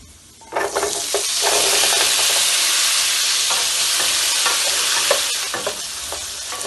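Potatoes tossed into hot oil with garlic and chillies, a sudden loud sizzle that stays strong and steady while ingredients are stirred in the pan, no voices.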